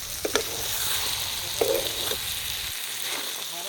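Taro and pork frying in a pan as water is splashed in, with a steady sizzle and a few sharper bursts of spitting when the water hits the hot oil.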